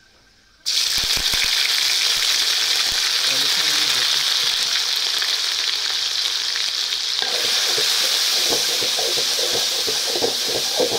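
Ginger garlic paste hitting hot oil in a pan for a chicken curry, a sudden loud sizzle that bursts in after a quiet moment and keeps crackling steadily, with stirring clatter joining later.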